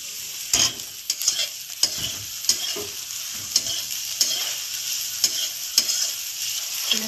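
Vegetables with capsicum fry in a pan for paneer veg momos, a spoon scraping and clacking against the pan in repeated strokes over a constant low sizzle.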